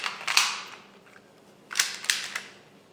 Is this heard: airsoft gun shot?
yes